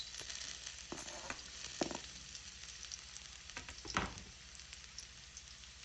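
Garlic sautéing in hot oil in a pan, a steady close sizzling hiss broken by a few louder crackling bursts and stirring scrapes, with no talking.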